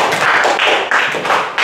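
A brief burst of applause from a small group of students in a classroom, close and fairly loud, lasting under two seconds.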